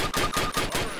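Rapid burst of gunfire from a Springfield rifle in Call of Duty, several loud, close shots in quick succession with a steady roar between them.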